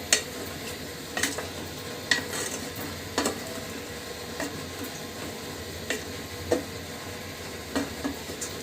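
Bitter gourd, yardlong beans, potatoes and tomatoes sautéing in a pan for a Bengali fish curry, with a constant soft sizzle broken by occasional clinks and scrapes of a stirring utensil.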